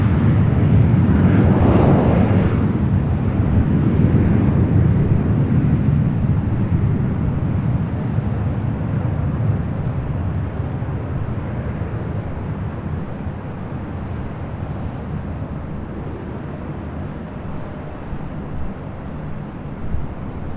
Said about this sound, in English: Taking off with Delta Connection, flight